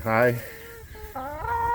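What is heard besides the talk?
hens clucking in a chicken tractor coop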